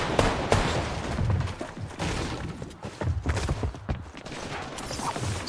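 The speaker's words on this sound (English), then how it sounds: "I hear some nades getting launched." Grenades being launched and exploding in Fortnite: a dense, continuous clatter of booms, cracks and crumbling structure over roughly five seconds, loud and chaotic with no clear gaps.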